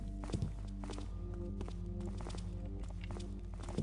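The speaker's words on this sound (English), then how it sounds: "So I just heard footsteps around this corner." Footsteps in the Thief video game, a series of soft, regular steps heard close among steady low ambient game drones and humming tones, without talk.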